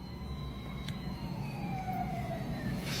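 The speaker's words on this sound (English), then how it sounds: "All I heard was sirens." Wailing emergency-vehicle sirens sweep steadily downward in pitch, heard at a moderate distance for several seconds with no voices over them.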